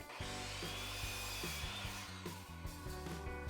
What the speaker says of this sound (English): Back to the miter saw.